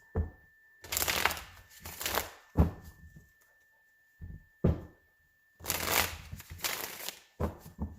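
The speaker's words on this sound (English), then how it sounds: "Alright, one more shuffle." Tarot cards are shuffled in repeated bursts of riffling and slapping, close and crisp, separated by short pauses and a few soft knocks, with a faint steady tone in the background.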